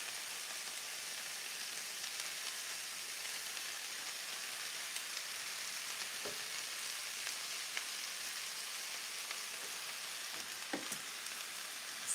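Sauce sizzling and frying in a hot pan while cooking a Panda Express-style dish with fresh ginger and garlic, a steady dense hiss throughout with a couple of faint clinks, no talking.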